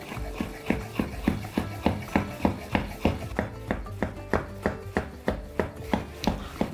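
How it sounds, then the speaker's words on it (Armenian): A knife slices cucumber halves diagonally on a cutting board, giving about twenty crisp, evenly spaced chops in a steady rhythm, close and clear. "Եվ կես վարունգները կտրատում ենք շեղակի։"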